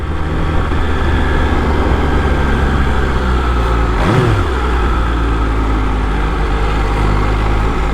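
A sport motorcycle engine, either a Ducati Panigale V2 or an MV Agusta F3RR, holds a loud, steady, close droning note while riding, with one brief rev rising and falling midway.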